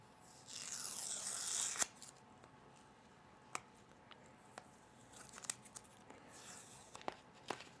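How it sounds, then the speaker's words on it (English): Protective masking film peeled off laser-cut mirrored acrylic, a faint drawn-out tearing rip near the start followed by scattered small crinkles and light clicks, quiet and close with no talking. "gotta peel off the masking that we put on here"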